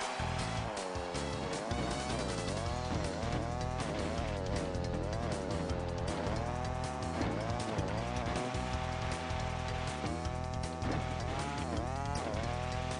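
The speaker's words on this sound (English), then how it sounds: "We have a car interrupting us." Kart engines whine and rev in the video game Crash Team Racing, a loud continuous buzzing drone with pitch rising and falling as karts accelerate and corner, layered over game music.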